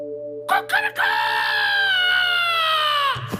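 A man in a comedy film scene imitates a rooster's crow with his voice before dawn, delivering one long, loud, sustained cock-a-doodle-doo after a few short rising lead-in notes, alone and close.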